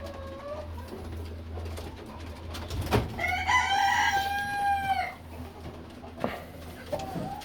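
Farm poultry, chickens such as dual-purpose laying hens kept alongside quail at Riverview farm, with a rooster's drawn-out crow rising in the middle over scattered clucks and calls against steady background hum.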